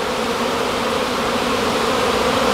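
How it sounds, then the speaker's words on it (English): Honeybees shaken from a beehive into a cover buzz in a loud, dense, continuous drone close by, with no voices. "I shake the bees in the cover"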